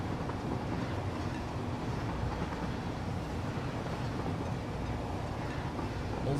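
A freight train from a video game factory-building game, hauling aluminum casings, runs steadily with a constant low rumble and rattle that holds at an even level throughout.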